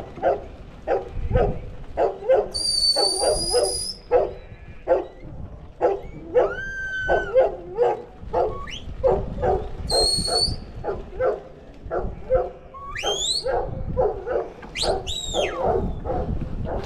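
A working dog, probably a hunterway at a New Zealand sheep station, barks repeatedly in loud, rapid bursts over several seconds, with high whistle-like tones and shouted calls mixed in between the barks.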